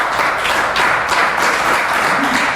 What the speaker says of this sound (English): why fans are clapping